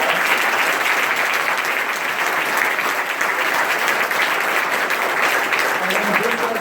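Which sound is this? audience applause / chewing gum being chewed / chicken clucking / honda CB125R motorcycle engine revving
audience applause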